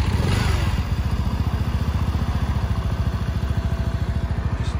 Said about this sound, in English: Leave it running with the choke lever in a little bit.